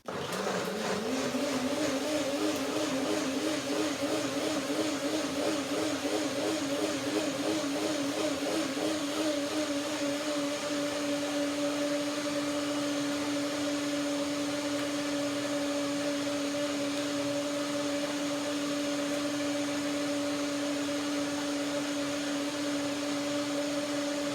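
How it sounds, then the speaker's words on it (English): A blender purees chili pea soup with a steady, loud motor whine, winding up in pitch over the first few seconds and then holding an even drone for the rest of the run. "And when I blend it now, it should be the right texture and the right temperature."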